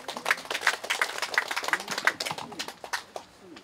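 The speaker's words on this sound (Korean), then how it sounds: "큰 박수 부탁드립니다" Audience applause at a national classical Chinese poetry (hanshi) writing contest ceremony: dense, steady clapping from a seated crowd that rises and falls over a few seconds, with no voices over it.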